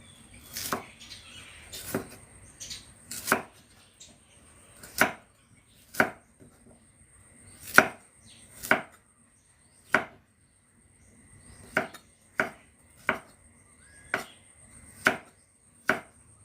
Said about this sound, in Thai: หั่นแบบพอดีคำหน่อย